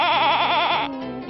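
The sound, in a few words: sheep bleating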